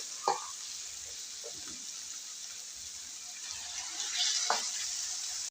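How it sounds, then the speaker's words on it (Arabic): Eggplant with tomato and garlic sizzles in a pan with a steady hiss, broken by a few scraping stirs of a utensil, close and moderately loud with no talking. "من بعد ما ضفت الباذنجان كنخلط الكل"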